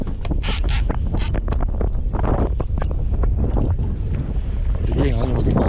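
Strong wind buffets a fishing boat at sea, loud gusty roar with rattling and knocking of boat fittings, and a few faint voices under the noise.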